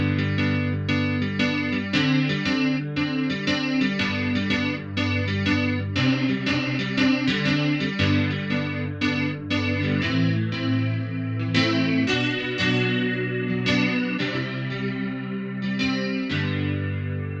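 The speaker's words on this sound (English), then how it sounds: "The modulation effects section has a chorus," Electric grand piano modeled on the Yamaha CP-70 played through a chorus modulation effect, chords and melodic notes with a shimmering, slightly detuned swirl, loud and continuous with no talking.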